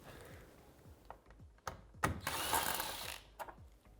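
A hand wrench works at the top mounting bolts of the roof visor on a Polaris RZR XP 4 1000 Turbo UTV, making quiet ratcheting clicks, a few sharp metallic knocks and a brief rasping stretch, close up.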